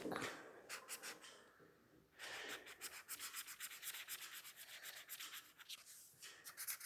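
Pencil scratching and rubbing over paper while drawing and colouring an avocado, a steady run of close, dry strokes that pauses briefly and then picks up again in quick repeated bursts.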